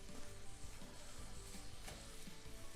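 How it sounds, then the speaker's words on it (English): Diced onion fries in a frying pan as the base for a traditional cottage pie, giving a soft, continuous sizzle with faint crackles, steady and unbroken, with no voices. "now this is starting to fry down and the onions are starting to go a little bit opaque"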